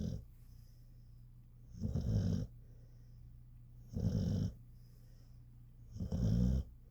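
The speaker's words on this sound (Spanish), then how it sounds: "ahí están los ronquidos de él" A sleeping dog snores in three slow, regular breaths, each a rough, throaty rasp about half a second long, close and moderately loud over a faint background hum, with no talking.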